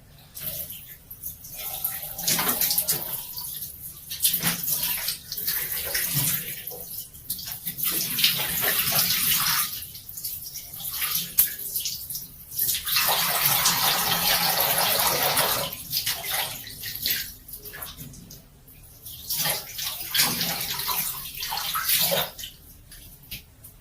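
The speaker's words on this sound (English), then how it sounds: "So it's a rinse with warm water." Warm tap water runs steadily during a facial rinse in an acne-treatment skincare routine, a continuous splashing gush with brief breaks as hands cup and splash water, close and fairly loud with no talking.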